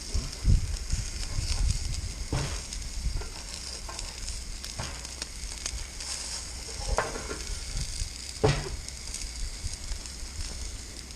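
Onions sizzling on a griddle at a bear-hunting camp cookout, a steady crackling fry with occasional sharper pops and scrapes, heard close.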